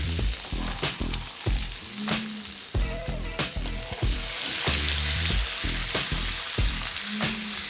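A T-bone steak sizzles and fries in a hot pan, a dense, steady crackle with occasional knocks and scrapes as it is moved and turned, with a low musical bed underneath and no talking.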